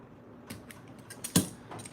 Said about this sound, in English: you push it forward, stops, and it rotates back into place